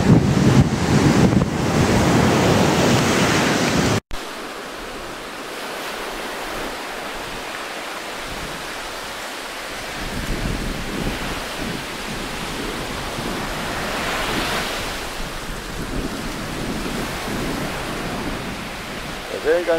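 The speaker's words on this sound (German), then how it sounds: "Der Wellengang ist zurzeit so stark" Strong surf breaks on a beach on La Digue in the Seychelles, a loud, continuous roar of waves with heavy wind buffeting the microphone throughout.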